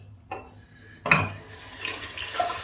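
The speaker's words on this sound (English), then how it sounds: "Rinse the hands off" Tap water starts running into a bathroom sink after a shave as hands are rinsed, with a short splash followed by a steady close stream.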